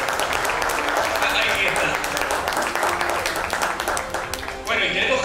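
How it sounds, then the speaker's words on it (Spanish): An awards-ceremony audience applauds loudly and continuously, a dense wash of clapping filling the room while a voice speaks over it. "Les pido un aplauso también para él, está allá en el fondo."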